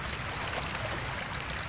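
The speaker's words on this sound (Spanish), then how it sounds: "¡Es el agua corriendo sobre todas las rocas!" Water rushes over rocks in a fast rainforest stream near a waterfall, a steady dense roar of splashing and gurgling that stays loud and even throughout, with no voices.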